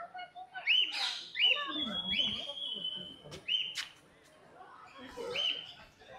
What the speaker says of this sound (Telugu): వేరే వేరే జాతుల పక్షులు ఉన్నాయి